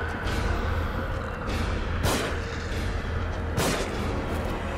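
Muffled booming gunshots in the survival horror game The Evil Within on PS4, a few heavy thuds spaced apart over a dark, droning game soundtrack.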